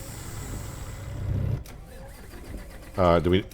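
A truck in American Truck Simulator cranks and rumbles briefly, then cuts out as it stalls. A short burst of speech follows near the end.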